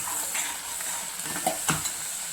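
Masala for Kolhapuri chicken stirred and frying in a pan, a continuous sizzle close by with scraping stirs and a couple of sharp spoon knocks against the pan, no voices.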